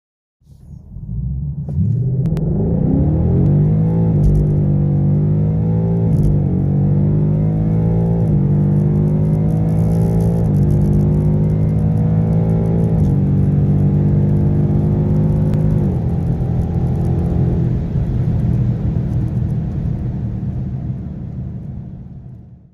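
A 2018 Mustang GT fitted with a Velossa Tech Big Mouth intake accelerates hard in drag strip mode. Its loud, close engine roar climbs in pitch, dips at each of several gear shifts, then fades at the end.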